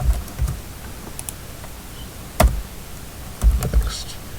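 Keys tapped on a computer keyboard while entering text, a few scattered clicks with two short bursts of quick strokes, close and fairly quiet, with no talking.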